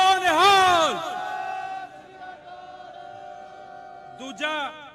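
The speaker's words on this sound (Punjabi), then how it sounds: "ਕੈਨੇਡਾ ਦੇ ਨਾਂ ਤੇ ਇੱਕ ਜਕਾਰਾ ਛੱਡਣ ਨੂੰ ਕਹੂੰਗਾ" A crowd raises a Sikh jaikara battle cry, loud sustained shouting that swells at the start, fades to a murmur, then bursts briefly again near the end.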